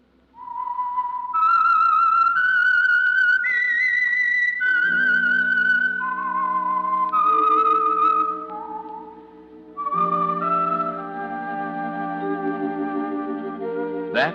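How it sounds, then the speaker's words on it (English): The whistled signal tune of the 1945 radio program The Whistler: a melodic tune, clear and close, with a descending then rising phrase, joined by low sustained orchestral tones partway through. "That whistle is your signal for the Signal Oil program"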